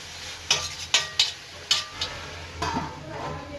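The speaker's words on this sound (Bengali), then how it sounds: "সবজির সঙ্গে ভালোভাবে মাখিয়ে আমি খানিক্ষণ কষে নেব" A spatula scrapes and taps against a pan several times as eggs and cabbage are stirred and sautéed, sharp strokes over a low sizzle.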